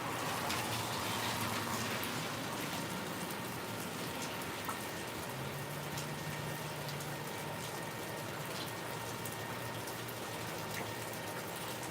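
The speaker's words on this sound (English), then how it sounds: "Rain done cooled off our pit." Steady rain falls in an even, hissing wash that stays constant from start to finish, faint and without voices, with a few scattered drops landing on a hard surface.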